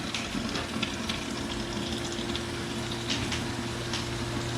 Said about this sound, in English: you see it's got a halfway decent boil going